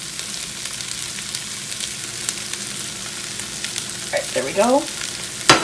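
Spices stirred into sizzling jambalaya in a pan, a steady frying hiss with occasional scrapes and a sharp clink at the end, while someone speaks briefly over it.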